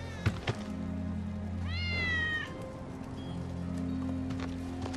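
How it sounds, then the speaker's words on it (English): A cat in the Final Fantasy 7 Remake video game lets out one clear, drawn-out meow amid quiet game ambience with soft thuds and footsteps. "That's Wedge's cat."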